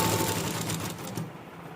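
A sewing machine runs steadily, stitching cloth for dhoti salwar pants, a continuous whirring hum that holds at an even, fairly loud level for the whole stretch with no pauses.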